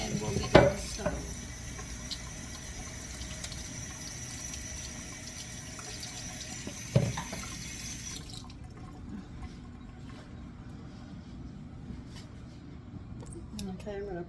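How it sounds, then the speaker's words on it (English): Tap water running into a kitchen sink while citrus fruit is rinsed for marmalade, a steady faint splash with a couple of clunks, then the flow stops and quiet room noise remains. "Just rinsing these off, and we'll get to the stove."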